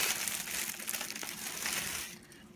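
Plastic wrapping crinkling and rustling close up as an HHKB Pro 2 keyboard is pulled out of it, a continuous crackly scrunching for about two seconds before it fades out.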